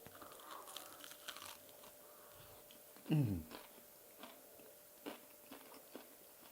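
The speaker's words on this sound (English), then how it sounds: "Rösti, nice, crispy, bottom also crispy" A single crisp bite into crispy rösti, a sharp crunch near the middle, followed by quiet close chewing and crumbly crackles.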